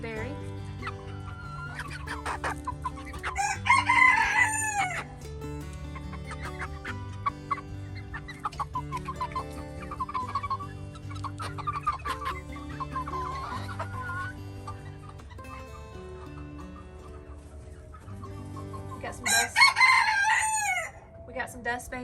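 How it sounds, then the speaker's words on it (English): Backyard chickens cluck and murmur nearby while roosters let out two loud, close crowing calls, one early and one near the end, with softer crowing and clucking between and a person talking at times. "some crowing, a bunch of crowing"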